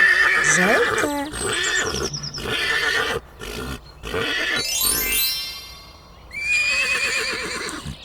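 Loud, shrill horse whinnies come in repeated bursts, wavering calls broken by brief silences, with a long high descending neigh toward the end.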